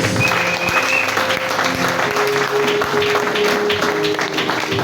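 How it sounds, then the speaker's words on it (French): Church congregation applauding and cheering loudly and continuously for Jesus, a dense steady wall of clapping with voices mixed in, with a sustained tone running beneath it. "Est-ce que tu peux acclamer très fort pour Jésus?"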